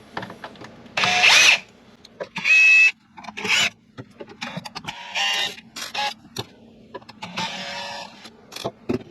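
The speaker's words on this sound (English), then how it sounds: "So now we're going to remove all these screws on the outside." Short bursts of a power drill or driver backing screws out of an appliance's outer casing, several separate whirring runs with quieter clicks and handling noise between them.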